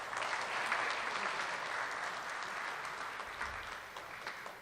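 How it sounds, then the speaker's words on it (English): Audience applause for the sponsor Riverside Township at a monthly live radio-theatre show, a sustained wash of many hands clapping at moderate level throughout, tapering slightly toward the end. "give them a round of applause"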